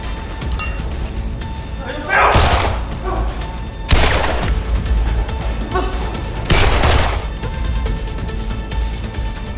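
Three loud, sharp gunshots ring out a couple of seconds apart, echoing over a steady background hum.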